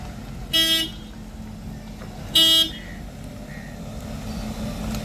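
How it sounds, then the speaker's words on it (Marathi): Two short car horn toots, separated by roughly two seconds, sound over steady road noise as three cars set off together for a picnic outing near Khopoli. "तिन्ही गाड्या निघाल्या आहेत."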